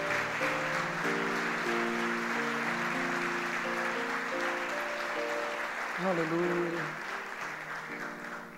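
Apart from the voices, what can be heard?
congregation applauding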